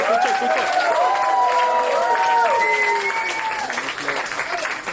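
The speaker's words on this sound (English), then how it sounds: "So yeah, you need to give a louder applause." An audience claps at a children's dance studio recital, steady full-room applause mixed with cheering and the high calls of excited kids, holding strong before easing slightly toward the end.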